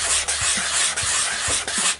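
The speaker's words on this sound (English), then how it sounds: "Sand it side to side." A homemade prop blaster is sanded side to side, producing a loud, continuous gritty rasp with rhythmic strokes repeating about every half second.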